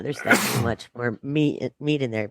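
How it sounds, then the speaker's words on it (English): A single sharp cough bursts out from someone whose water went down the wrong way, close and loud, followed at once by ordinary talk. "I just had water and it went down the wrong way slightly. So I'm just coughing a little"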